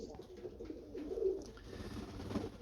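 Pigeons coo softly and close by, with a few low throaty phrases rising and falling against quiet background hiss.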